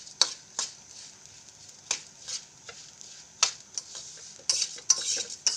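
Flattened rice (chira) is dry-fried on low heat in a pan, with repeated clinks and scrapes of a spoon stirring it and a faint, steady sizzle underneath, heard close up.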